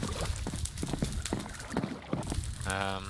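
Hooves clip-clop from a horse in the Minecraft video game, a steady trotting rhythm under game noise with a brief neigh-like tone near the end.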